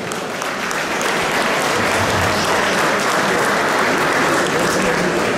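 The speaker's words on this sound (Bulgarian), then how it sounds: "Аплодисменти" Sustained, loud applause fills a hall at the Bulgarian Olympic Committee centenary celebration, dense and even clapping from a large audience, with no speech over it.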